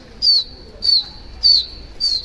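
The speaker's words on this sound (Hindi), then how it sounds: "ये देखिए कबूतर" Pigeons in a loft or rooftop coop give four short, bright calls in a steady rhythm, roughly every half second, each standing clearly above a low background hum.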